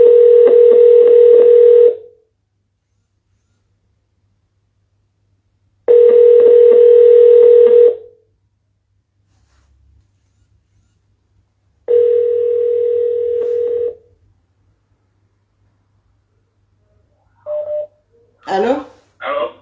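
Telephone ringing tone on a live call-in show: three steady tone bursts of about two seconds each, separated by silent gaps, followed by a voice answering at the end.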